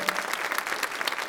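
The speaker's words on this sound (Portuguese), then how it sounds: "Vamos aplaudir a palavra de Deus com muito amor, com muito carinho." A church congregation applauds in dense, steady clapping throughout this short stretch, close and continuous with no voices standing out.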